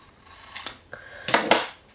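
Paper being cut in half with scissors for a homemade ephemera holder: two crisp snipping bursts close up, the second louder and longer, with quiet pauses between.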